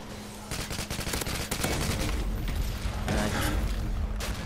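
Rapid, sustained automatic gunfire in the Modern Warfare 2 video game, dense overlapping bursts and booms that start abruptly and continue loudly without pause, with heavy low rumble underneath.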